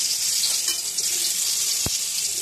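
Eggplant pieces frying in white oil in a wok, a steady close hiss and sizzle throughout with a brief low knock near the end.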